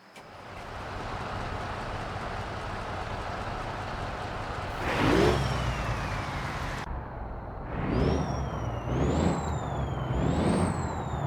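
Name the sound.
truck engine running in a trucking video game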